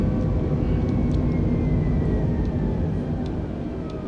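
Airbus A320 airliner in Microsoft Flight Simulator 2020, a steady, loud broadband engine roar with a dense low rumble holding constant throughout, easing slightly toward the end, with no talk.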